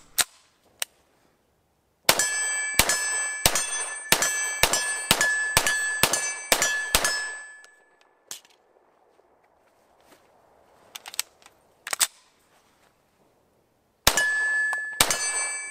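A Ruger PC Charger 9mm straight-blowback pistol fires a rapid string of shots at steel targets. Each sharp report comes with a bright, ringing metallic clang. A second burst of shots follows after a quiet gap with faint knocks.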